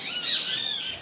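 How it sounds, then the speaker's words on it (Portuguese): Birds chirp and sing continuously in a park square in the Sumarezinho neighbourhood of São Paulo, bright overlapping tweets at moderate distance with no voices. "2 amigos meditam ao som de pássaros em uma praça no Sumarezinho"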